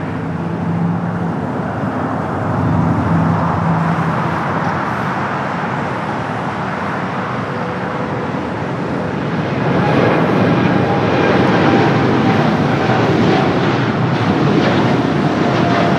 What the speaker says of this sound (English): All right, the United Dreamliner now rolling it down to 25 right.